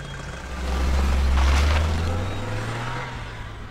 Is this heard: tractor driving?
yes